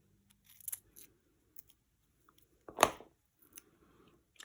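Scissors snip through a sticky paper card-making element, a few quiet crisp cuts with one sharper, louder snip in the middle, close and alone.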